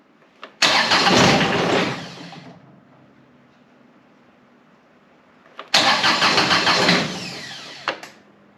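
John Deere X758 lawn tractor with a glow-plug engine cranking in two loud bursts separated by a few seconds of low idle-like rumble, each start attempt roaring up then fading.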